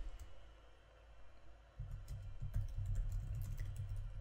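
Keystrokes tapping on a computer keyboard while writing in Scrivener, a soft irregular patter that starts faint and grows busier and louder halfway through, with a low background hum underneath.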